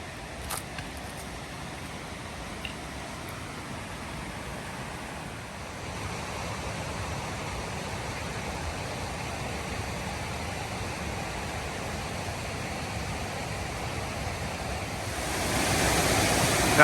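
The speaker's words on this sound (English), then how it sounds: "You can hear lots of water somewhere." Water rushes steadily somewhere along a wooded hiking trail near Beech Bottom Falls, a broad, constant roar that thickens and grows louder toward the end, with no voices.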